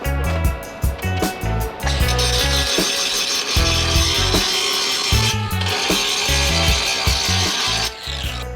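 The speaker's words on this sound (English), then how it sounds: "Actually, we probably want to grind it" An angle grinder works on metal during a yacht repair ahead of welding, giving long loud harsh bursts of grinding noise with rattling mechanical clatter between them, close to the listener.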